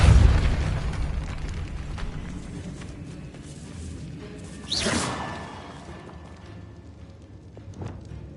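A Repulsor spell cast in a wizarding video game gives a sharp whooshing burst around the middle, set over a low rumbling background, with a faint softer thump later.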